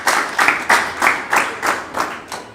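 A small group at a film academy graduation ceremony gives a brief round of clapping, about eight loose rhythmic bursts of hands that fade toward the end, close and without talk.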